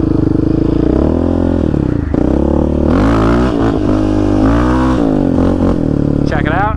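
A Yamaha Raptor 700 ATV engine roars close and loud, revving up and down while riding through washed-out Arizona desert trails, with clattering over rough ground and a voice talking over it.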